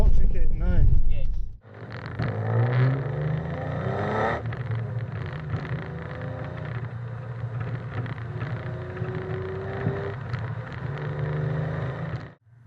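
A Lotus Carlton estate with twin turbos and a limited-slip differential, heard from inside under way: a steady engine drone with rising drivetrain whine and turbo spool, under wind noise, with people talking.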